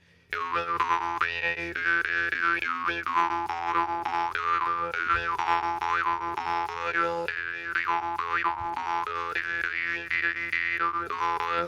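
Twangy, buzzing jaw harp played steadily with a rhythmic pulse and shifting overtones, close and fairly loud, no voices.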